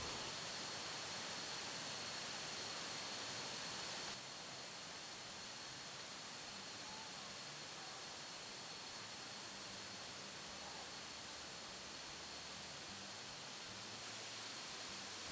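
Tad Kuang Si waterfall near Luang Prabang, Laos, its fourth tier roaring as a steady, dense rush of falling water, constant and close with no voices.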